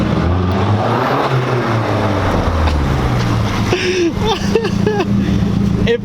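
Turbo flutter from a Mazdaspeed with small turbos, heard as a few quick chirping flutters on throttle lift over a steady engine drone, with talk over the engine noise.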